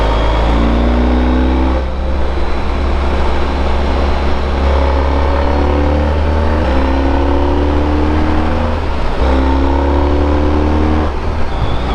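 A Honda ST1300 motorcycle rides West Virginia backroads through sharp, tightening corners, its loud engine droning steadily with small rises and dips in pitch, mixed with rushing wind.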